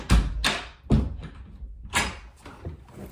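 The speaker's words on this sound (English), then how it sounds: "let me close the door." Door handled and pushed shut indoors, giving several close, loud knocks and thumps spread across a few seconds, with no talking.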